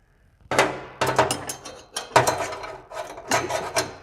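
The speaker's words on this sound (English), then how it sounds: "I'm going to just snug the bolts. I don't want to tighten them yet." A hand ratchet clicks in several rapid bursts, snugging the bolts on a Velocity AP secondary cat delete exhaust on an Aston Martin DB9, close and loud with brief gaps between strokes.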